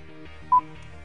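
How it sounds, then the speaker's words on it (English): A single short, clean beep sounds from a Buick LaCrosse's hands-free system after the phone voice button on the right side of the steering wheel is pressed, standing out briefly over a quiet cabin hum. "we'll hit the phone voice button again on the right-hand side of the steering wheel"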